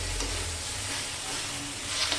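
Brinjal bharta with tomatoes stirred in a pan, a steady close sizzle and frying hiss with faint scraping of the spoon, no voices.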